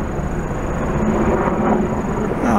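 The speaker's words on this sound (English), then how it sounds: "Helicopter flying over." A military helicopter flies overhead outdoors near a new footbridge, giving a steady, loud, broad rumble that holds for the whole moment with no voices.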